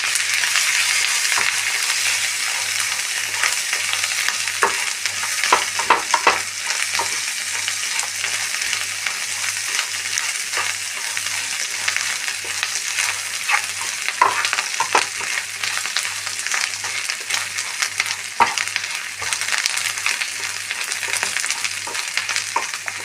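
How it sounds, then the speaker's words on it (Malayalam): Dried red chilies and garlic fry together with dried shrimp in a pan for a shrimp chutney powder, giving a steady, close, continuous sizzle with occasional stirring scrapes throughout. "പിന്നെ 5-8 വറ്റൽമുളക്, ഒരു 10 പോച്ച് വെളുത്തുള്ളി. ഇതൊന്നും ഇതിൻ്റെ ഒപ്പം ഫ്രൈ ആവട്ടെ."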